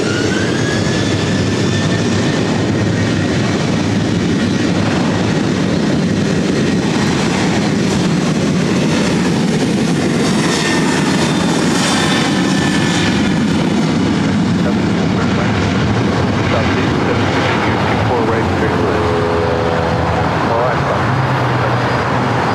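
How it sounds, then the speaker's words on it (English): A Southwest Boeing 737-800 jet takes off at LAX with a loud, sustained engine roar that rises and sweeps past, its whine shifting in pitch, while a voice speaks over it. "4838 taking off to San Jose, California on a 737-800"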